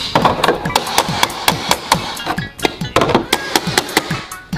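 A toy hammer strikes a pretend bakery and snack shop playset in quick, uneven bursts of sharp plastic taps and knocks, loud and close, with a few brief pauses between clusters of hits.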